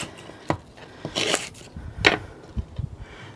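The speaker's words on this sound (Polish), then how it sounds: "Rabarbar kroję w takie grubsze kawałki." A knife chops rhubarb stalks into thick pieces on a board, several uneven thuds and crunches spaced apart, close and fairly quiet.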